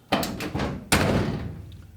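Close, loud thuds as the door of a 1968 Dodge Dart, fitted with race car door latches, is pushed shut: a couple of lighter knocks, then one hard slam that rings out briefly.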